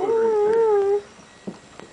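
A young puppy gives a clear, wavering howl for about a second, followed by a few faint whimpers and soft yips close by, with no talk.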